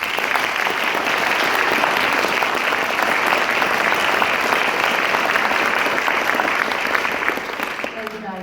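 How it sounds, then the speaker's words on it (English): A large audience claps loudly and continuously for future young scientists at a science-success talk, the dense applause holding steady for several seconds before tapering off, with a voice faintly audible beneath it. "let's clap for the future scientists of tomorrow."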